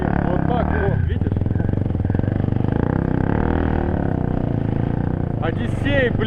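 A motorcycle engine runs with a steady, close droning hum during a mountain motorcycle rally, under continuous male conversation.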